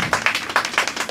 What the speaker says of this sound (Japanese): もう一度熱い拍手をお願いします。